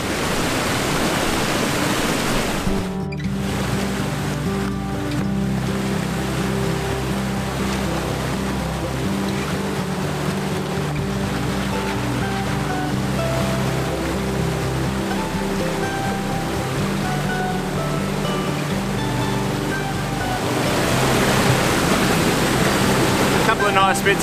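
Heavy rushing water from a waterfall roars continuously close by, with shifting tones and a brief clatter near the start.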